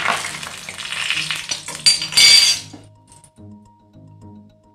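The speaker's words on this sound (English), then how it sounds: "Now this refined oil become a hot and now added 3 bay leaves." Three bay leaves hit hot refined oil in a karai with a loud, close burst of sizzling and a bright clink of metal, then the frying fades to a soft, low simmer.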